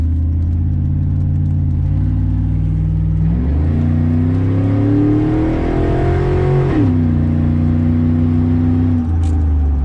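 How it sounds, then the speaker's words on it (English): An LS-swapped Chevrolet K1500 pickup accelerates hard in a one-wheel peel, its loud V8 engine roaring and climbing in pitch, dropping briefly as it shifts, then settling back to a steady rumble. "it'll do a fat one-wheel peel"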